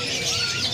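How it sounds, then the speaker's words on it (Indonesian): A labet bird calls in a busy bird market in Yogyakarta, giving brief high chirps over a dense wash of market noise. "Nah, ini adalah burung labet"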